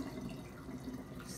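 Water is poured through a funnel into a bottle during a cookies and art activity, a faint, steady trickling splash that runs briefly with no talk.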